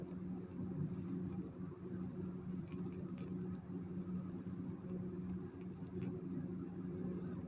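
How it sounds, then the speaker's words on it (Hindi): A sewing machine stitches the seam of small baby shorts with a steady low motor hum and a faint rapid needle patter, running continuously without pause. "तो यहाँ पर भी हम सिलाई लगाते हुए जाएंगे।"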